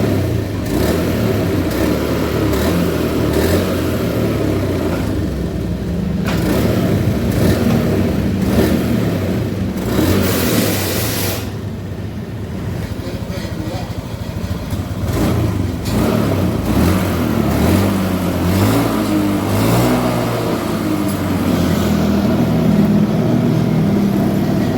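A Honda Beat Street scooter engine with a fuel pump fault that makes it bog and lose power revs repeatedly under throttle, loud and close, its pitch rising and falling in uneven surges over a steady running drone.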